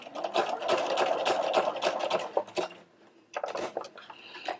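A sewing machine stitches a zigzag buttonhole on denim in close, rapid mechanical bursts, a long run, a brief pause, then another short run.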